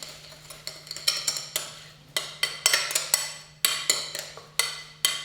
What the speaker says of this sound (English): So let's just mix all that up again